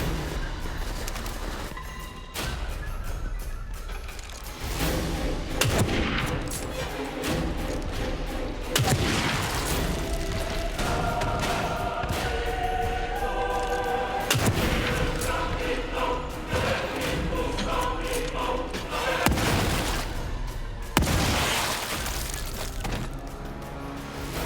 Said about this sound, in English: He's shooting a 308.